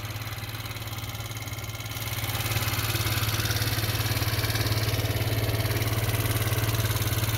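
A 1985 Yamaha Riva 125cc scooter engine idling steadily up close, an even low putter that grows slightly louder after a couple of seconds and then holds.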